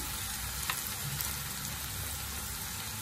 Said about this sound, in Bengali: মশলাগুলো ভালো মতন ফ্রাই হয়ে গেছে, এখন আমি দিয়ে দিব টমেটো পেস্ট আর বাকি মশলাগুলো।